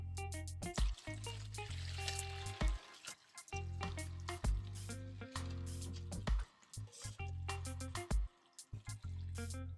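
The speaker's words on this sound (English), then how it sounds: "we're going to strain the liquid so that you can use it to blend the pumpkin" Liquid strained from soaked sea moss and pumpkin drips and trickles quietly, broken by intermittent splashes and clinks, close and faint with no voices.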